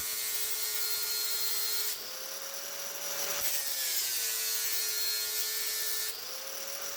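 Decorative bed screws are being sanded, a continuous harsh close grinding and rubbing with a whining tonal hum that shifts pitch slightly as pressure changes, with no talking.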